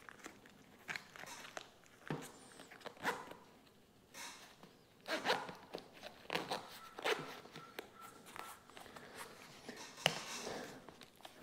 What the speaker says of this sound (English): Let me zip this up and see how it goes.